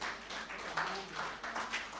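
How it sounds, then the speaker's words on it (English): A conference audience applauds the session moderator, a soft, steady patter of scattered hand claps at moderate distance with no speech over it. "I think she deserves a hand of applause"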